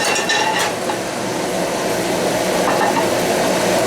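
Pre-cooked rare beef kidneys tossed in a hot pan on the stove, a dense steady sizzle and hiss with faint scraping clicks of stirring, close and fairly loud without talk.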